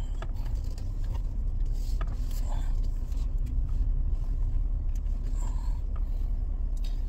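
A 2009 Mercedes driving slowly along a crowded road after a front brake replacement, its engine and road rumble steady and low throughout, with faint creaks and mechanical ticks.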